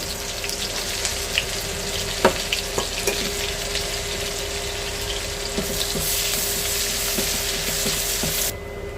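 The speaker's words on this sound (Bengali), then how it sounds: "দেখেন আমার পেঁয়াজটা মোটামুটি ভাজা প্রায় মোটামুটি হয়েছে।" Onions and a few green chilies fry in hot oil in a pan, giving a steady, close sizzle and hiss throughout. Occasional scrapes and taps of a utensil cut through, and the frying swells slightly louder toward the end, with no one speaking.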